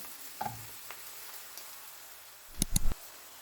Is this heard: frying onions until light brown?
yes